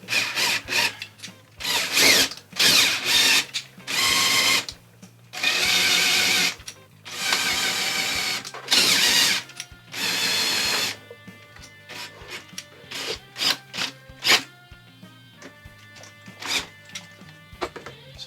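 A drill turns a 3D printed gearbox, running in reverse to lift a weight, with repeated loud whirring bursts of a few seconds each, followed by shorter rattling, ratcheting spurts and clicks.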